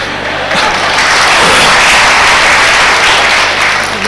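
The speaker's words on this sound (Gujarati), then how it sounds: "કેમ તાળીઓ પાડી" Sustained applause from an audience at a Swaminarayan temple religious discourse, a dense steady roar of many hands clapping at once that holds loud for about four seconds and tapers only slightly at the end.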